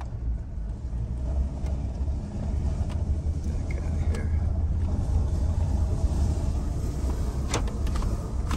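2003 4x4 truck with a 4L60E automatic transmission driving off toward the street, a low steady engine rumble from inside the cab with a few faint knocks and rattles.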